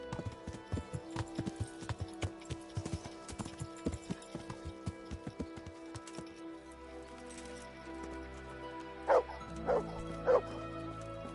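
A dog barks repeatedly in quick, uneven bursts, mixed with hoof-like clopping, then three louder isolated barks stand out near the end over a steady low rumble.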